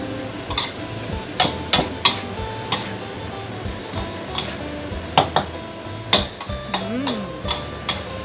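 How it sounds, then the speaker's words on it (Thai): A splash of water hits a hot frying pan during a Thai stir-fry, giving a steady sizzle under repeated sharp scrapes and clinks of a utensil stirring against the pan. "เดี๋ยวเราจะแอบใส่น้ำลงไปนิดนึงนะคะ"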